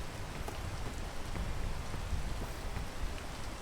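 Rain falls steadily in the climbing video game PEAK, a dense, even hiss of droplets with faint scattered taps throughout and no voices.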